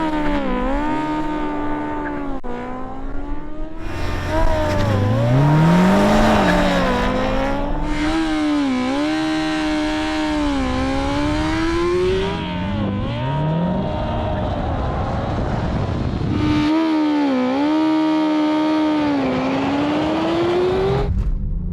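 A BMW M1000 RR motorcycle and a BMW M5 CS car drag race, with high engine whines rising sharply through repeated gear changes, loud and close, and a sustained roar across the run.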